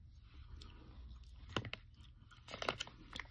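Edible chalk crunched between the teeth in close, quiet bursts: a couple of sharp bites, then a cluster of gritty crunches toward the end, with soft chewing in between.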